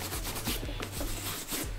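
A polishing wipe rubs the metal hardware of a vintage Dooney & Bourke purse in quick repeated back-and-forth strokes, close and soft, with no talking.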